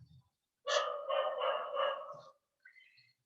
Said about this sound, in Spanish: se ponen a ladrar cuando yo estoy hablando